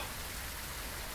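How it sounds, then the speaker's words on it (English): Heavy rain in the video game Phasmophobia hisses as a steady, dense, even wash of noise with no breaks. "Is it heavy rain?"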